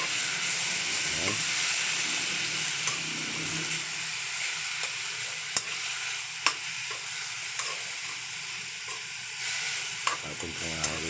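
Ampalaya (bitter gourd) fries in a pan with a steady, loud sizzle and hiss while a utensil stirs it, leaving a few sharp scrapes and taps near the end.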